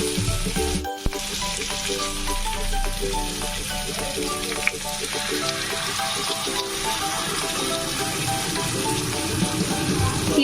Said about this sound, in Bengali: তো আমি দিয়ে দিচ্ছি তিল বাটাটা